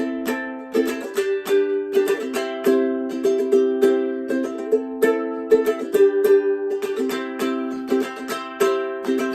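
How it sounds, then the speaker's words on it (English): A strummed ukulele plays a bright, syncopated rhythm pattern from a song, with short pauses between groups of strokes. No voices. "Now the rhythm of the song sounds like this."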